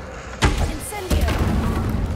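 An Incendio fire spell cast in Hogwarts Legacy, a sudden whooshing burst followed by a second heavy thump and sustained rumbling fire noise, loud and close.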